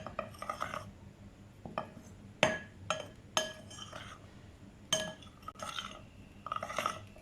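Chicken being mixed with flour and powdered spices in a bowl, heard as a series of sharp clinks and taps of utensil against the bowl between softer scraping and shuffling, moderately close.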